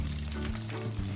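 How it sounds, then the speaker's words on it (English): Breaded chicken popcorn pieces frying in hot oil, a steady close sizzle with dense bubbling crackle throughout and no voices. "Fry the remaining chicken popcorns."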